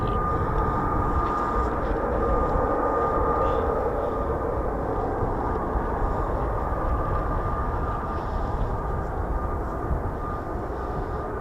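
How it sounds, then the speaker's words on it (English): F-35B fighter jets of 809 Naval Air Squadron and 617 and 207 Squadrons taking off, a loud, steady, broadband jet roar with a low rumble that holds throughout and is heard alone. "So we've got F-35s on the move now"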